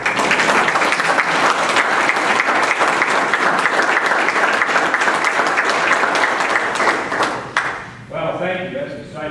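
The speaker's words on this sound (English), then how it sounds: "So let's have a hand of applause for the Lackeys." Sustained audience applause for the Lackeys at a park dedication ceremony, a dense steady clapping from a large crowd that carries on for several seconds before tapering off into a quieter room.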